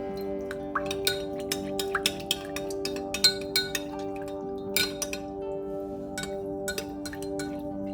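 A utensil clinks repeatedly against a bowl while soy sauce, oyster sauce and cornstarch are stirred together, a series of light, bright taps over a steady background hum.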